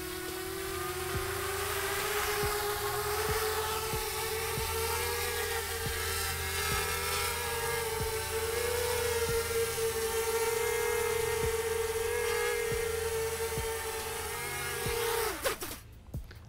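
A UVify Draco FPV drone's propellers spin up for a hover test, giving a steady high-pitched whirring buzz that holds for about fifteen seconds before cutting off abruptly near the end.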